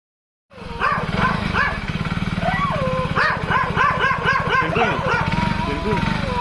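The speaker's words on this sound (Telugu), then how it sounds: "కుక్కలే కుక్కను పడుతుంది" Dogs bark repeatedly in rapid bursts over a steady engine drone, with some voices mixed in, loud and close.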